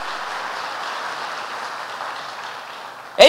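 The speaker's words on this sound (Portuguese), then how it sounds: "Pode aplaudir ao Senhor." A church congregation applauds during a celebration service, a dense, steady wash of clapping from many hands that holds evenly and then ends in a sudden louder burst.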